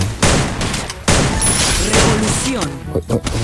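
Dense bursts of Free Fire video game gunfire crackle loudly and nearly continuously, with heavy thumps and crashes mixed in, while a player shouts and talks over the shooting.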